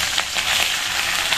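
Bay leaves spluttering in hot cooking oil, a continuous close, loud crackling sizzle with small pops, no talking.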